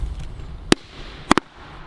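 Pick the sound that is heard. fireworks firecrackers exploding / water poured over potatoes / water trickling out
fireworks firecrackers exploding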